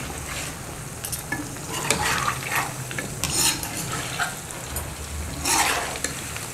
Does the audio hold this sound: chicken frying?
yes